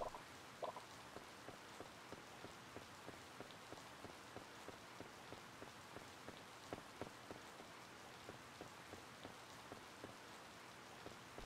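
Soft, steady rain patters continuously on surfaces in the Harvest Moon Light of Hope farming game, with scattered drop ticks throughout. The sound is faint and uniform, and there is no talk.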